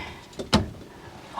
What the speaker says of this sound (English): You're going to close the door.